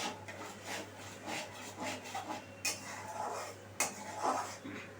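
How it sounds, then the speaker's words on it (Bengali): A spoon stirs poppy seed and mustard paste with salt in a pan, giving soft repeated scraping and rubbing strokes with a couple of sharper clinks against the metal, close and fairly quiet. "খুব ভালোভাবে আমি একটু মিশিয়ে নেব।"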